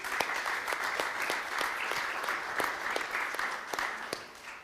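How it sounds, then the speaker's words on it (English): Conference audience applauding, dense sustained clapping from many hands at close range throughout, steady and loud with no voices over it. "I think these claps are not only for me, for all Ukrainians that stand"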